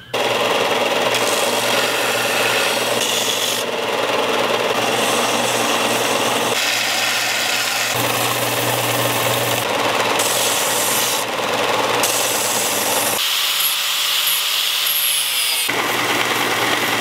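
A power grinder takes down the metal pins and excess wood on handmade knife handles, a loud continuous grinding and rasping that shifts in tone as the pressure changes, with short pauses between passes.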